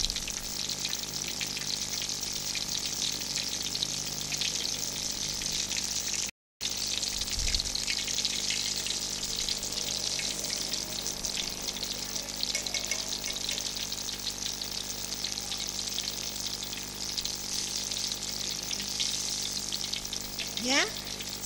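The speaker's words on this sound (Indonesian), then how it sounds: "Kita goreng dia sampai warnanya golden brown ya" Batter-coated milkfish frying in hot oil, a loud, continuous close sizzle and crackle that runs steadily throughout, broken only by a brief cut and a faint clatter near the end.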